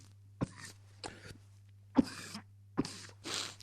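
Four separate coughs from one person, close and distinct, spaced about a second apart, each a short harsh burst, over a steady low electrical hum.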